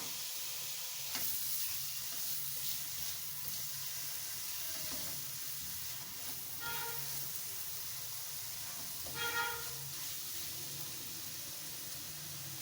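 Chicken fries in a pan over a high flame, a continuous close sizzle with occasional stirring clinks and scrapes, no voices.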